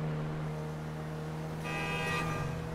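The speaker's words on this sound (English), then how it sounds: "What are you beeping at?" A car horn sounds in a GTA roleplay game, entering partway through as a steady tonal honk over constant engine and background game noise.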